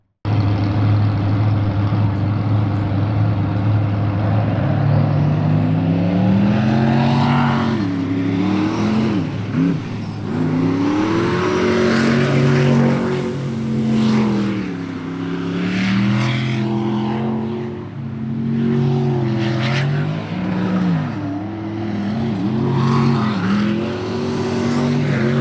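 A jet sprint boat's racing engine roars through an Unlimited-class run at a sprint boat final, loud and sustained, its pitch rising and dipping repeatedly as it drives through turns over about twenty-five seconds.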